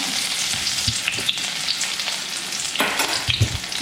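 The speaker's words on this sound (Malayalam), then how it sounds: "കടുകെല്ലാം പൊട്ടിയിട്ടുണ്ട് ഇന്നുകൊണ്ട് ഉള്ളി അതിലേക്ക് ഇടാം" Onions sizzle loudly in hot oil after mustard seeds, a steady close hiss broken by occasional stirring scrapes and clinks.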